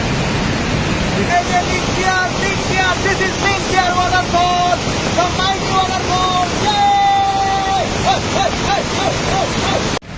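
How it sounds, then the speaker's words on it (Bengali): Lyngksiar waterfall swollen after heavy rain, a loud, continuous broadband roar of rushing water at close range, with a voice talking over it. "এই যে আমরা চলে এসেছি একদম একদম বটম অফ দা লিংসিয়ার ওয়াটারফল"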